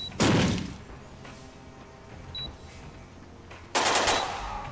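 Frag grenade thrown through a window in Door Kickers 2, two heavy blasts a few seconds apart, each a loud sharp burst with a ringing, crackling tail, and a faint thump between them.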